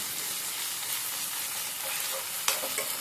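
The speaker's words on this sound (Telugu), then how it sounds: "ఇప్పుడు కూడా అల్లం పేస్టు పచ్చివాసన పోయేదాకా వేపుకోవాలి కదా" Ginger and curry leaves fry in oil in a pan with a steady, close sizzle. A brief clatter of stirring breaks in near the end.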